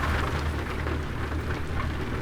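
Steady rain patter with a low rumbling hum underneath, heard from inside a truck cab in American Truck Simulator, constant and fairly loud throughout, no voices.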